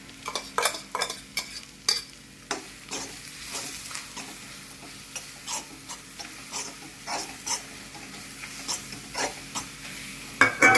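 Beaten egg seasoned with chilli powder, turmeric and salt fries in a pan for egg kalakki with chapati, giving a continuous sizzle under rhythmic scraping strokes of a spatula repeating steadily throughout.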